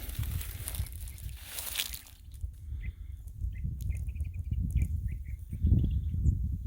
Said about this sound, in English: Heard a little chirping.